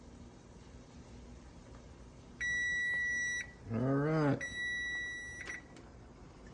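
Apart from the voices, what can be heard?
kitchen timer beeping after being set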